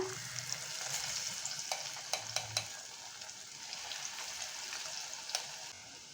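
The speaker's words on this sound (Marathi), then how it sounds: "आपल्याला असं ढवळून एक एक चम पकोडे आतमध्ये ॲड करायचे आहे" Masoor dal pakoras frying in hot oil, heard as a soft, even crackling sizzle with a few sharp spoon taps and clinks as batter drops in, moderately faint and without talk.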